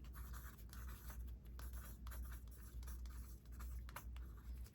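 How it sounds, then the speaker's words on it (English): Pen scratching across paper while a note is jotted down, a steady close scribbling texture with short strokes and pauses over a low background hum. "I got to write that down."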